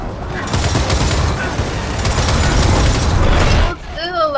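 Gears of War 4 gunfire rattles in sustained, loud automatic bursts with booming impacts for several seconds before cutting off abruptly, and a voice talks over the shooting.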